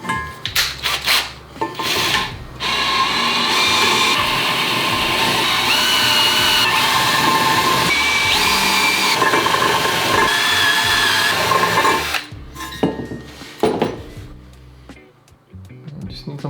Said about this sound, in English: I'm just gonna go ahead and tap right into the flange to start off with.